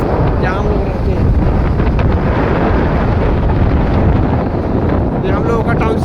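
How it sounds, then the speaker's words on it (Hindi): Strong wind buffets the microphone outdoors overlooking the Power Valley township at JSW Steel Karnataka, a loud, unbroken roaring rush throughout with faint voices underneath. "बहुत तेज हवा बह रहा है"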